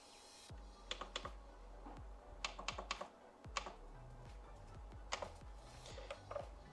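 Key presses on a Dahua NKB1000-E network control keyboard while a name is entered, heard as clusters of sharp, close clicks in short bursts with pauses between them over a low steady hum.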